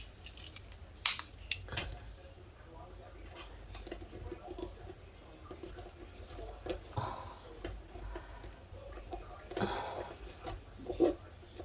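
Scissors cut through paper for a vintage camera scrapbooking project, with small snips and crisp ticks spread across a quiet, close room background.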